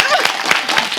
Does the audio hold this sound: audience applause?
yes